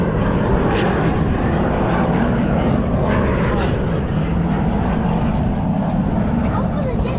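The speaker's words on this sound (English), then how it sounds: "Oh, it's a F-22, F-35, and a P-51." A heritage flight of an F-22, F-35 and P-51 passes over Huntington Beach at an airshow, a loud, steady broadband engine roar sustained throughout with voices talking over it.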